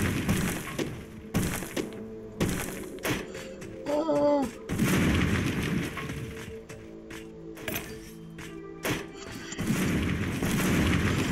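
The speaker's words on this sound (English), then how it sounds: "It keeps on exploding! Everywhere!" Explosions in Steamworld Dig burst out in a chain of sharp, loud blasts separated by brief gaps, with metallic clanks and ringing tones between them and no voices heard.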